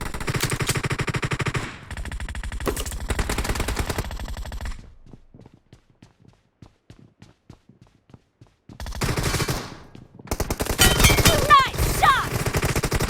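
Rapid bursts of gunfire ring out in a team-based shooting video game, with long loud volleys, a quieter stretch of scattered single shots, then heavy firing again near the end.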